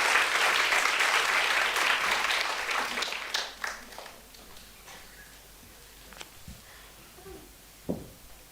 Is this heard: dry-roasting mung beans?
no